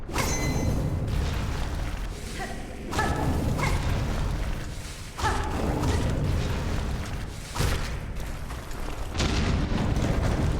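Explosions go off in the Silksong video game, a run of heavy booming blasts every second or two, each a loud broadband thump with a crackling tail, over a dense game soundscape and no talk.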